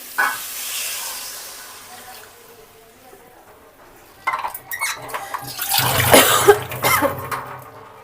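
Water poured into a hot cooking pan bursts into a loud hiss and sizzle midway through, after a quiet stretch with faint background noise.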